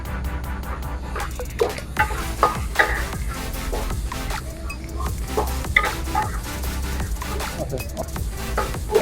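Onions frying in a pan for a chicken and vegetable spring roll filling, a steady close sizzle with scattered clinks and scrapes of stirring.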